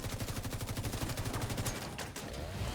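Sustained automatic gunfire from a video game, with rapid evenly spaced shots running loud and steady almost throughout, briefly thinning near the two-second mark before resuming.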